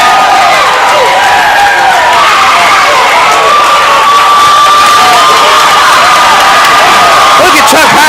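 Crowd at a wrestling sectional: a loud, continuous roar of cheering and shouting voices close by, with some clapping mixed in.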